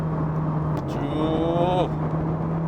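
A Volkswagen Jetta engine rises in pitch as it accelerates after a manual downshift, heard from inside the cabin over a constant low road hum and then easing off.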